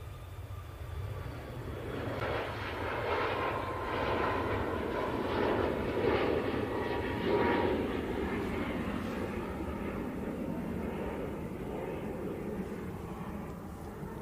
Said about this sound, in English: Is this Ryanair 737 MAX 8?